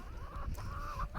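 Hens cluck softly in a short, close burst of fowl sounds on a French homestead, with low rustling in the background and no talk.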